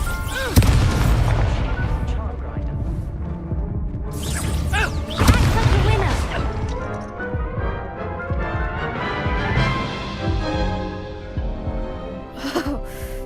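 A Hogwarts Legacy wizard duel erupts with spell blasts: booming impacts, crackling bursts and crashing effects layered densely over several seconds, with a voice heard at times among them.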